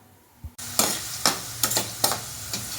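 Ginger fries in hot oil with a steady sizzle, broken by a few sharp stirring scrapes at regular intervals after a quiet start.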